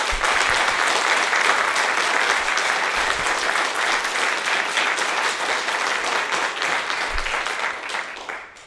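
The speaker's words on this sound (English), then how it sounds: "Let's give her a round of applause for that." Sustained applause from an audience honoring a woman at a ceremony, dense steady clapping filling the room for about eight seconds before tapering off at the end.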